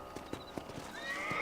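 A horse in Red Dead Redemption clops a few distinct hoof steps close by, then gives a brief whinny near the end, with no talk over it.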